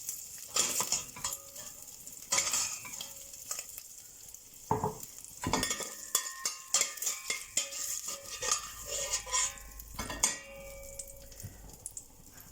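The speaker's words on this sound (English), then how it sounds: "at this point we're just going to take the bacon out, leaving as much of the oil and" Bacon pieces are lifted out of a pan of hot oil and bacon fat, which sizzles steadily throughout while metal utensils clink and scrape against the pan in bursts.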